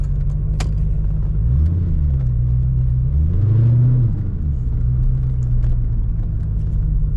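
A 1991 Chevy Corvette C4 convertible with a 4-speed automatic on the move gives a steady, close engine drone that swells and shifts in pitch midway before settling back, with no talking.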